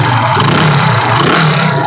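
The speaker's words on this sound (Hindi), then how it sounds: "अब इसमें फटाफट किक मार के दिखाते हैं आपके लिए" A motorcycle engine runs right after a kick start: a loud, close, steady idle with a continuous rumbling drone and no voices.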